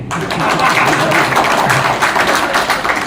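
Dense, steady applause from a large audience at a Hindi kavi sammelan poetry gathering, loud and continuous throughout with no clear speech on top.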